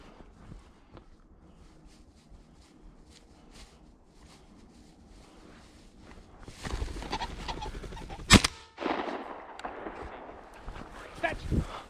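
Shotgun fired at a pheasant during a hunt at a bird ranch, a single sharp loud blast near the middle, with rustling, footsteps and people talking before and after.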